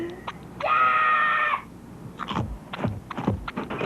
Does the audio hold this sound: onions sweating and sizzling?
no